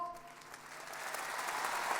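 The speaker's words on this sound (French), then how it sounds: "Sous vos applaudissements," Applause from an audience, a dense steady patter of clapping that builds slightly and continues throughout.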